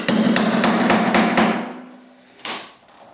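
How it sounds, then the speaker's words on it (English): A screwdriver is tapped into the gap to lever up a wooden floorboard, giving about six quick knocks in a row, then a pause and one more sharper knock, close and alone. "we can start to lever the board up"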